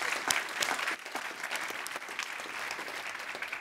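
A crowd claps steadily in applause, a dense patter of many hands that holds at an even level for a few seconds.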